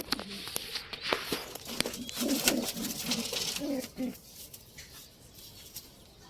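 Homing pigeons coo in soft, low, repeated bursts nearby, mixed with scattered clicks and rustling, then the cooing fades into quiet.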